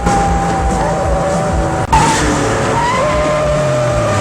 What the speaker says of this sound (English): A giant car is about to run you over?